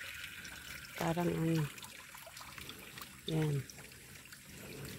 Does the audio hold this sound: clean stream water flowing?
yes